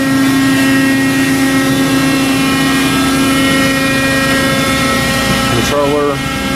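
A 1990 Cincinnati VT220 220-ton injection molding machine runs with a loud, steady hum and a constant tonal drone, joined near the end by a brief sliding mechanical squeal.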